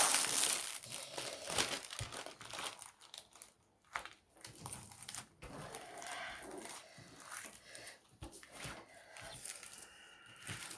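Transparent gift wrapping paper is handled and crinkled in irregular bursts of crackling rustles, some sharper and louder than others, with brief pauses between.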